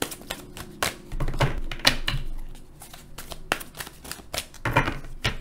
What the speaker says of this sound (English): This is why I don't like to shuffle on camera